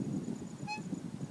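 A single short, faint toot from a small bicycle horn sounds once over quiet background noise.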